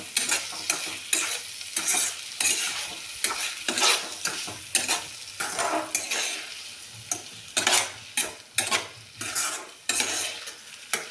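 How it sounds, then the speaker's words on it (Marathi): Brinjal stir-fried with chilli powder in a pan, with repeated scraping and clinking strokes of a spoon against metal in an uneven rhythm over a soft background sizzle, close and fairly quiet. "तिखट घालून परतून घ्यायचं याला"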